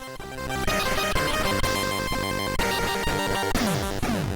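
Busy Commodore 64 chiptune music from a 1989 intro, with buzzy square-wave tones, rapid arpeggios and pitch-sweeping blips, loud and continuous.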